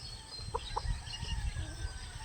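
Native chickens cluck softly nearby, with a couple of short clucks standing out over a low rustling farmyard background.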